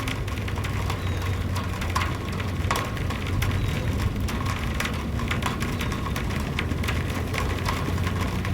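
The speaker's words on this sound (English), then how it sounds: "Running in the rain feels pretty good." Rain falling outdoors during a run, a steady crackling patter that fills the whole stretch evenly, close and continuous with no voices.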